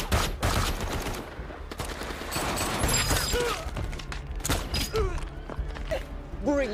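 Rapid bursts of gunfire during a film firefight, dense overlapping shots and crackling impacts with metallic clatter, loud and continuous over a tense action soundtrack.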